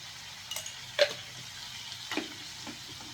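Chicken liver sautéing in a pan, a low steady sizzle broken by a few sharp clinks and scrapes of a utensil against the pan, close and fairly quiet, with no talking.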